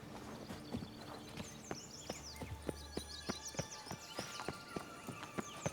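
Steady clip-clop of horse hooves walking at an even pace in the video game The Witcher 3, fairly close, with a brief low rumble partway through and no talking.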